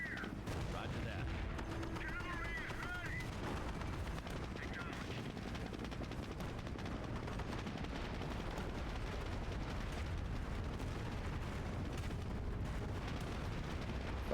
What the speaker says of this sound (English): I forgot how many explosions there were in this game.